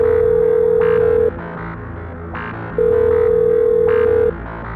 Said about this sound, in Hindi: राजू के बारे में पता करने के लिए उसने फिर से कॉल लगाया।